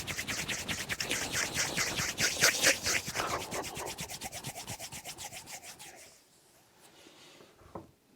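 Hands rub briskly up and down the sides of the nose during a self-care massage, giving a close, steady rhythm of soft scratchy strokes for about six seconds before fading to near quiet.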